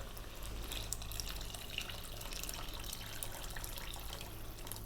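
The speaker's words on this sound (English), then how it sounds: "Now we're going to add liquid. I'm going to just use water," Water pours steadily into a pot of spicy vegan vegetable soup from a big jug, a continuous soft splashing that stays fairly quiet and even throughout.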